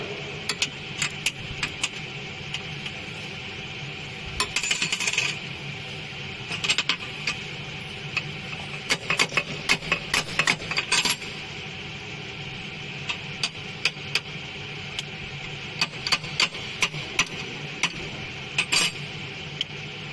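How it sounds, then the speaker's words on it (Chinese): Inside a drinking straw packing machine, a straw tube is tapped into the track with irregular clusters of sharp metallic taps and clicks over a steady mechanical hum. "往里面敲，它管子就往里面走。"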